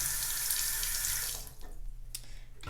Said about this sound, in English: fill it up with some water first